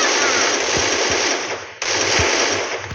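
Dense, continuous gunfire in the Free Fire battle game, likely from an AK rifle, with a few low thumps, loud and steady throughout with a brief dip near the middle.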